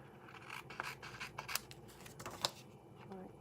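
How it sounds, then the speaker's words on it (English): Scissors snipping through cardstock for an envelope flap at a papercraft table, a series of short crisp cuts at an irregular pace, close and fairly quiet with light handling rustle. "let's grab our scissors and let's cut this"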